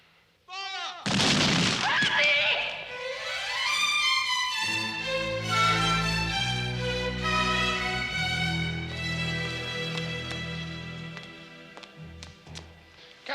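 Cannon artillery fire opens with a sharp, loud boom in a 1982 period drama about the French Revolution, followed by swelling orchestral music that carries on over the remaining seconds.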